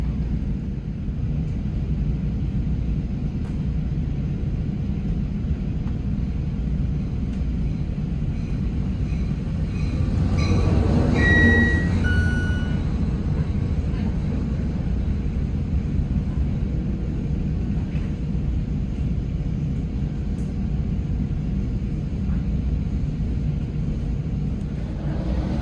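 An NJ Transit train running on the line past Haddonfield, paralleling the PATCO tracks and gathering speed, with a steady low rumble throughout that swells slightly midway, accompanied by faint higher squeals.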